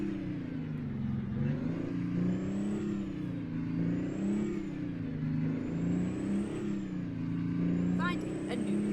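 Kenworth K100 cabover truck in American Truck Simulator, its engine droning steadily with rising and falling pitch as it drives through town, loud and continuous, with a few brief metallic squeaks near the end.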